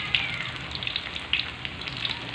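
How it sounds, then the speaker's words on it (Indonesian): Tempeh coated in flour batter frying in hot oil, giving a steady close sizzle broken by scattered sharp pops and crackles, with no voices. "Dan ini tempenya lagi saya goreng ya, tunggu sampai kuning baru kita angkat tempe gorengnya."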